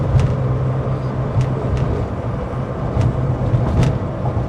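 Air-cooled engine of a 1985 Porsche 911 Carrera on the move, a steady close low rumble with road noise and a few brief sharp clicks over it.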